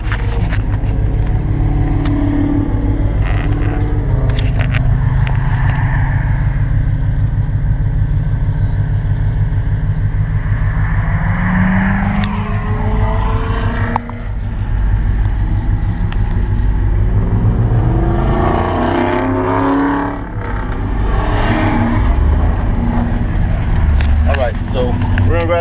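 Hot rod cars roll past on a road during the 2015 Hot Rod Power Tour. Their engines rumble and swell as they pass, and the traffic noise stays steady for the whole stretch.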